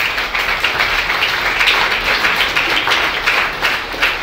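A steady patter of subdued applause from an audience at a meeting voting on final resolutions, many hands clapping evenly and close, without cheers.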